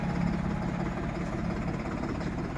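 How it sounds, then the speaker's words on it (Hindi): A New Holland 9000 tractor engine runs steadily at close range as the new tractor is driven off a trailer, a continuous low rumbling drone with no pauses. "ये भाई न्यू ट्रैक्टर ट्राले से उतारते हुए"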